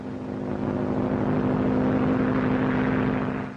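A 1930s propeller airplane comes in to land at an airfield, its engine a steady, loud droning hum that swells slightly and holds, with no voices over it.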